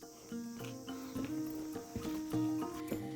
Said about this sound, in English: the sound of the crickets outside my window is really loud